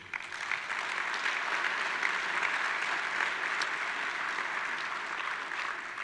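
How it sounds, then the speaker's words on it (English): A conference audience at a zero waste event gives sustained applause to Metro Vancouver staff, a dense, even wash of many hands clapping for about six seconds, steady and moderately distant. "if we could give them just a huge round of applause"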